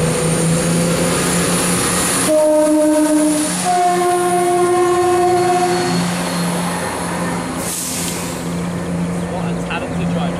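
A Class 170 train departing Stowmarket station sounds its two-tone horn, a loud low note followed by a higher one, over the rumble of the engine, with a brief later burst of noise.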